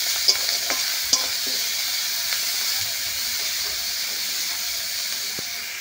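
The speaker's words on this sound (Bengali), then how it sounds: "লবণ আর হলুদ দিয়ে চিংড়ি মাছটা ভালো করে ভেজে নেব।" Small shrimp fry in oil with salt and turmeric, making a loud, even hissing sizzle throughout, with a couple of sharp spatula clicks near the start and no talk.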